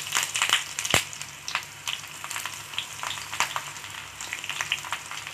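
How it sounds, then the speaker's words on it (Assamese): Onions and panch phoron frying in hot oil, a steady close sizzle with scattered crackles and pops running throughout without talk. "তেল গৰম হৈ গৈছে এতিয়া মই ইয়াত অকণমান পাঁচফোৰণ দি দিম ইয়াৰ পিছত পিঁয়াজখিনি দি দিছোঁ"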